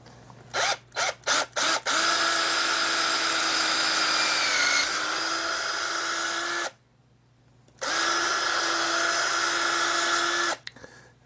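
A power drill bores a new hole, starting with a few short trigger bursts and then settling into two long, steady, high-pitched whining runs separated by a brief pause, loud and close with no talking.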